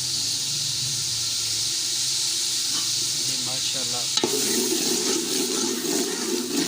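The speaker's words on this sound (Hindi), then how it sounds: "अभी ये थोड़ा पानी डालेंगे।" Water poured into a hot pan of frying onions and masala for chicken biryani sets off a sudden loud sizzle over a steady background hiss, with someone speaking briefly before it.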